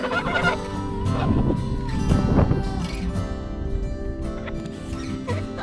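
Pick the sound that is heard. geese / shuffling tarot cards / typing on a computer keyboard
geese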